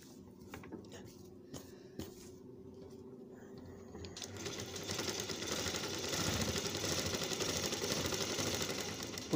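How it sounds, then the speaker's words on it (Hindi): A sewing machine starts stitching after a few scattered clicks and handling sounds, settling into a loud, steady mechanical whirr that runs to the end. "अब सिलाई मारेंगे।"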